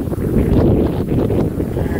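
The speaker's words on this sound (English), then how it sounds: "Here comes the freaking wind." Wind gusts across an open hay field, buffeting the microphone with a loud, steady low roar and rustle that swells and eases over two seconds, with no speech.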